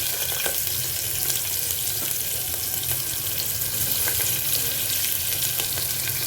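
Chopped green chili and onion sauté in hot oil in a pan for pressure-cooker pulao, producing a loud, even, unbroken sizzle with faint crackles throughout.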